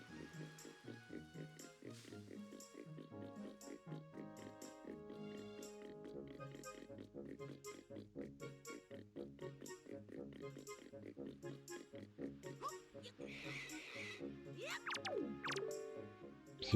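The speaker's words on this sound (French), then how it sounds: "C'est bien un cochon." Cartoonish pig oinks from the video game The Legend of Zelda: The Wind Waker, squealing in short repeated bursts over busy game music and effects, loud and close.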